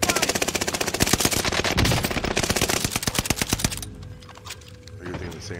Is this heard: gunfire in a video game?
yes